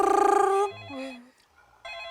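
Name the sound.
telephone ringing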